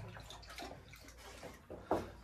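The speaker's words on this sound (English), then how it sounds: "Oh, dogs have found some water in there to drink." Dogs lapping water outdoors near a parked van, giving a run of soft, close wet splashing and slurping sounds with a sharper splash near the end, alone with no talk.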